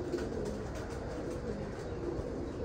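Pigeons cooing in a loft among kept breeding birds, soft low rolling coos repeating over a dense, noisy background murmur.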